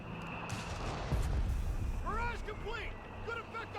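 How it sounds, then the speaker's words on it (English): Mortar fire in Company of Heroes 3 during a Wehrmacht versus US Forces match, a muffled distant boom among rumbling battle noise while a commentator talks over it. "A mortar fire in the center, actually deploying smoke directly on the church."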